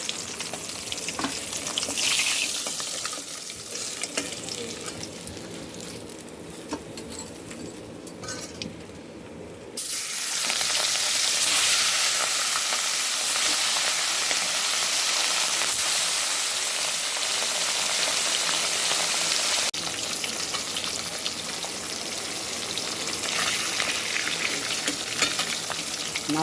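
Large pieces of fish fry in hot oil in a pan, making a dense, continuous sizzle that grows suddenly louder and stays intense, close and without talk.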